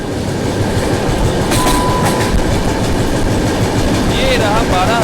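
The Yesvantpur–Delhi Sarai Rohilla AC Duronto express thunders past close by, a loud continuous roar of rolling wheels and carriages with rhythmic clatter and a faint squeal near the end.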